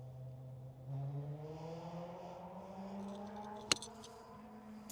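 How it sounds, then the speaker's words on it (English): A vehicle on a main road beside an outdoor golf range passes at a distance, a low engine drone rising gradually in pitch, with a sharp click partway through. "It's right on a main road, so there's a bunch of motorcycles and whatnot out today."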